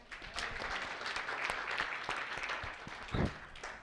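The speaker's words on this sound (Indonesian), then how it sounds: "Tepuk tangan untuk Tuhan." A church congregation applauds during a prayer service, a soft, distant patter of many hands clapping with a few louder claps standing out near the end.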